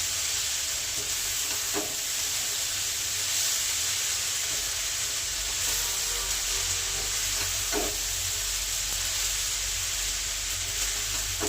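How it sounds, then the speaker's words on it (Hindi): Atta Maggi noodles cook in a pan as they are mixed, a constant close hiss and sizzle with occasional scrape and clack of a spoon against the pan, no voices. "मैगी गुड़िक मु पकईदेली। वर्तमान ताकू मिक्स करदे।"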